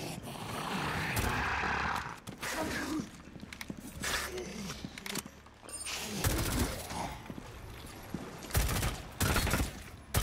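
Gunfire in the video game Rainbow Six Extraction, with loud bursts and rapid volleys of shots and booming roars through a busy, continuous game soundscape.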